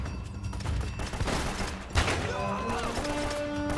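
Rapid gunfire from a gun in Uncharted, a burst of dense shots and a sharp blast at close range, followed by clattering game sounds and tonal effects.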